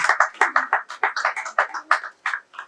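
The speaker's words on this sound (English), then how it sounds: "Can we clap for her once again?" Audience at a reporters and editors training session clapping for a speaker, a quick run of close, crisp handclaps with a steady rhythm across the room, no talking over it.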